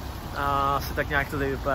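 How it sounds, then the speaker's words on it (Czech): Heavy rain pours down in a Czech town, a dense steady hiss of downpour beneath someone speaking close to the microphone. "začalo totálně už chcát, už úplně slejvák"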